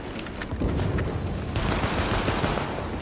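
Rapid automatic gunfire in the video game Tom Clancy's The Division, a loud, dense burst of shots continuing for about three seconds, with no talk over it.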